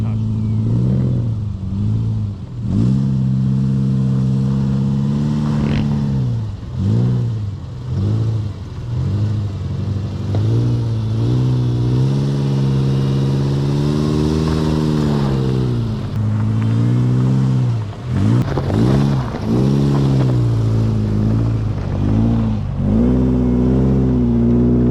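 Car engine climbing a steep technical slope off-road, revving up and down in repeated rising and falling surges, loud and close throughout, with a voice heard between revs.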